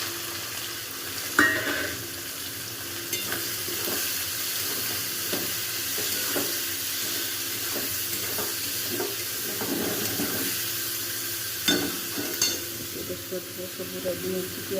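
Onions and whole garam masala frying in hot oil for chicken biryani, a steady close sizzle with intermittent scraping and stirring strokes of a spoon across the pan, some faint background sound, no talk.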